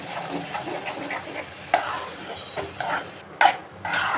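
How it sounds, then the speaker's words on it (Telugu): Chopped ridge gourd being stirred in a hot pan for an egg curry, a steady soft sizzle with several scraping strokes and a couple of sharper knocks of the spoon against the pan, fairly close. "చిన్నగా కోసుకొని బీరకాయలు ఇవి వేసుకోవాలి. మంచి కలపాలి."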